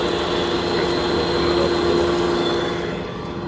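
A steady forge blower, set about half open, roars continuously with a low rushing hum and a faint steady tone while charcoal burns for melting metal, loud and unbroken throughout.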